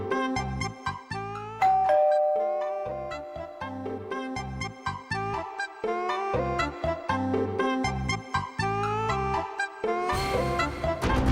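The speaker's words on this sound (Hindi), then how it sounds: "कितनी बेल बजी, आदमी सो नहीं पाएगा ऐसे में।" A doorbell at home plays a repeated melodic chime, bright electronic tones ringing over and over in quick succession without pause, loud and near, ending in a brief burst of noise.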